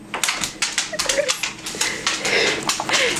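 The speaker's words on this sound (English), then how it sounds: "That's my dog." A dog whimpers and scrambles across a slippery indoor floor, its claws tapping in quick, uneven bursts close by, with a brief whine mixed into the pattering.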